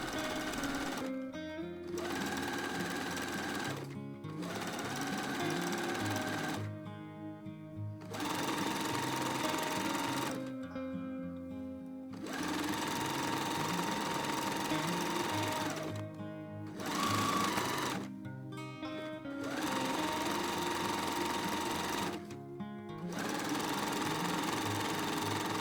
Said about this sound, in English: And then I can sew this hem down.